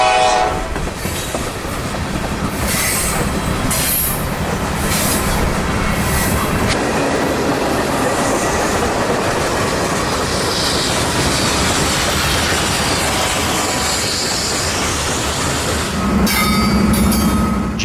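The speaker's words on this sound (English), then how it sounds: "G929 finally pulls the whole train out of the siding and starts backing into the Cal-Maine spur" Long freight train pulling out of a siding onto a spur in Florida, with loud, close rumbling of cars and clanking wheels throughout, horn blasts sounding near the start and again toward the end.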